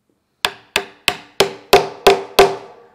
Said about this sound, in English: then I'm going to tap it into place with my hammer